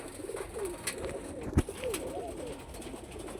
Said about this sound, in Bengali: এই যে আমাদের কবুতরগুলা